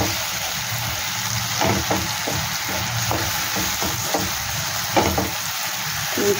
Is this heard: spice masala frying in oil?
yes